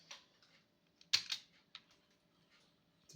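Keys pressed on a ZX Spectrum home computer keyboard, a few sparse, faint clicks and taps with one brief cluster of quick presses in a quiet room.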